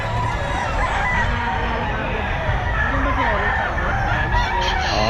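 Roosters crowing and clucking at a busy Bocaue pet market, loud and close, with people talking and a crowd murmuring all around.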